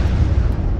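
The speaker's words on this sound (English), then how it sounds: "anime explosion energy" A dense, roaring burst of energy with heavy low rumble, sustained and loud for under a second, like a stylized explosion effect.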